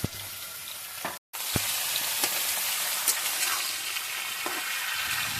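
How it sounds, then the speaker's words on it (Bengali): Vegetables for dalma lightly frying in a pan, with a steady close sizzle and occasional stirring scrapes broken by one brief gap near the start. "এগুলো হালকা ফ্রাই করে নিলে হয়ে যাবে"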